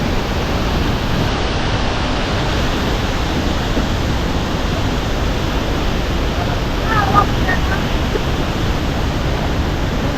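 Heavy spray from the Bhimkund waterfall in Keonjhar, Odisha, a dense continuous roar of falling and blowing water close to the microphone, drowning out everything else.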